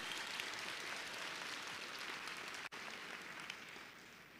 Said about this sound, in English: Give yourselves a round of applause for that good work.